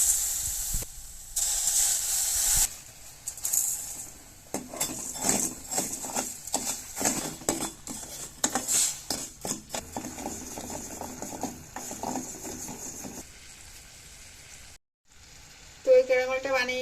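Sugar caramelizes in a kadai with a soft, hissing sizzle broken by scraping stirring clicks, fairly quiet and close, before cutting out near the end.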